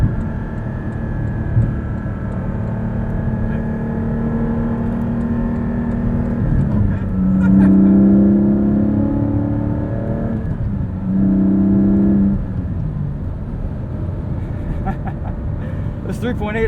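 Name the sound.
Porsche 718 Cayman GT4 3.8 engine while driving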